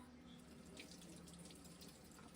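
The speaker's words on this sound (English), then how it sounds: "let's give her a quick rinse" A sharpening stone from a guided knife sharpener is rinsed under a running tap, with a steady, faint rush of water splashing into a sink for the whole stretch.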